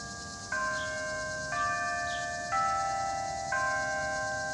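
A noon bell rings out at 11:59, four separate tonal chimes spaced about a second apart, each sustaining with a bright ringing overtone, moderately faint over quiet background hiss.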